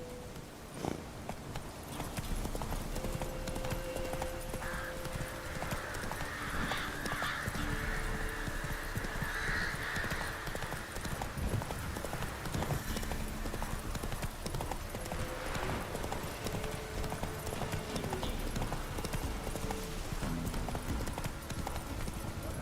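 A horse in The Witcher 3 moves at pace with steady rhythmic hoof clopping, set against a dense, loud bed of ambient game sound, with a brief whinny and faint voices in the background.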